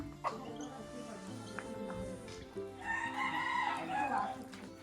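A rooster crows loudly and drawn out near the end, over steady farmyard background noise and faint voices.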